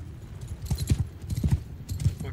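Horses galloping in the Mount & Blade II: Bannerlord video game, a rhythmic run of fairly close hoofbeats over low battlefield ambience.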